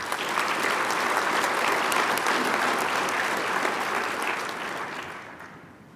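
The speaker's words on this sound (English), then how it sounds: "let's give a round of applause to Trooper Michael Brown." Sustained audience applause at a state police trooper and dispatcher awards ceremony, dense and steady for several seconds before tapering off near the end, with no talking over it.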